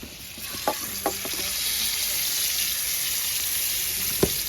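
Pomfret fish frying in a pan, a steady broad sizzle throughout with a few sharp utensil taps and scrapes near the start and one near the end.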